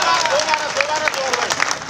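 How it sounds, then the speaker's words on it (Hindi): Applause from the audience at a Hindi-Urdu poetry gathering (mushaira), a short dense burst of clapping mixed with crowd murmur and a few voices. "एक बार जोरदार सारे लोग तालियां बजाएं"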